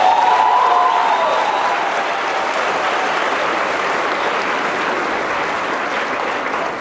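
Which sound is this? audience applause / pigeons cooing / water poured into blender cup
audience applause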